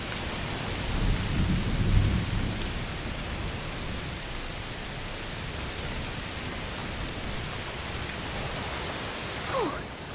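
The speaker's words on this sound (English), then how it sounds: "Oh, it's raining a lot." Heavy rain hisses steadily in the video game A Plague Tale: Requiem while a low roll of thunder rumbles early on, with a brief faint squeak near the end.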